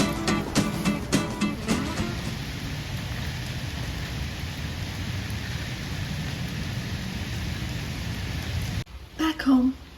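Steady rain falls during an autumn outing, a dense even hiss that runs for most of the stretch. Knocks and voice-like sounds come early, and the rain cuts off near the end, leaving brief louder sounds.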